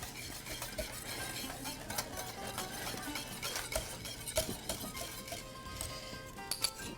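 Salt being stirred into pastitsio sauce in a pot, a quiet run of scraping stirs with occasional light clinks of a utensil against the pan over a faint simmer, no talking.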